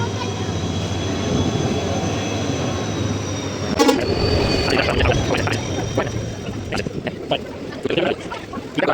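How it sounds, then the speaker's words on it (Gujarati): A passenger train pulls into a station on the way to Botad, rumbling and clanking nearby with a sharp metallic burst and drawn-out tonal squeals as it slows, while people talk over the noise. "ચલો જો ભાઈ ટ્રેન આવી ગઈ છે"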